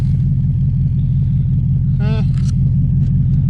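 An LS-swapped Camaro engine runs at a steady idle, a close, loud, deep rumble throughout, with a brief voice-like sound over it midway.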